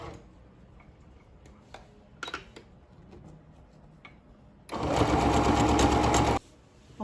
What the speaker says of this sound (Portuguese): Vou botar a agulha bem pro lado de cá. E vou começar a costurar aqui.